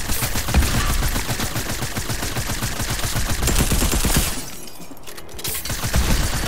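Rapid gunfire crackles almost continuously in a video game, loud and close, with bursts of automatic shots, a brief lull, and then more shooting.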